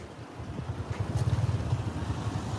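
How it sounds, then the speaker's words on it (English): A tuk-tuk engine chugs with a low, throbbing, Harley-like pulse, its rhythmic rumble building and holding steady at a moderate level with light wind noise over it. "you can hear like a Harley engine in the front"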